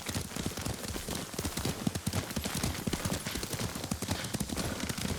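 Horse hooves clip-clopping at a brisk, steady rhythm while riding in the Ghost of Tsushima video game, a continuous quick patter of close hoofbeats with faint background ambience.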